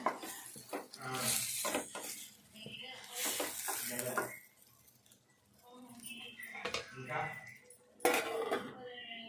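Tomato egg curry being mixed in a pan, with clinks and scrapes of a spoon against the pan in bursts, under and between stretches of talk.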